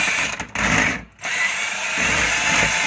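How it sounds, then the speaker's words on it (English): A power drill spins a drain snake into a clogged kitchen sink drain, whirring loudly and close with two brief stops before running steadily again. "I'm using a drill, so my hands will be free."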